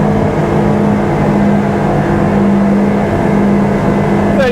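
Iguana Commuter amphibious boat running on water, its engine droning loud and steady with a sustained low hum as it speeds up, a constant rushing roar with no voices.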